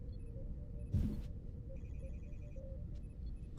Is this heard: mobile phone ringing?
yes